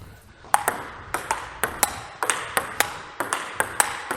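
Table tennis ball striking a Viscaria blade, a steady run of sharp bright pings in pairs, close and crisp, bouncing back and forth at an even rhythm with no talk.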